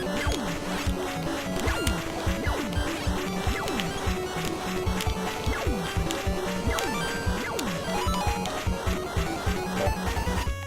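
Spikes rising from the bottom of the screen in the Mighty Gunvolt Burst video game, heard amid a busy stream of repeated chiptune blips, sweeps and clanks that continue throughout without any talk.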